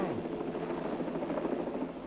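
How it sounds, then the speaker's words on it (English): A white and orange helicopter flies past with a steady, dense rotor whir and rumbling engine drone, moderately loud and continuous. "It's one of those UN black helicopters, only painted white and orange."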